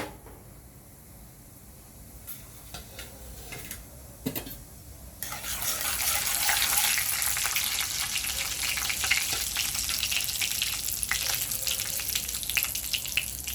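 Cumin and mustard seeds hit hot oil in a pan for Mumbai street-style vada pav, starting with a few light clinks and scrapes, then swelling into a steady, close, crackling sizzle that continues to the end.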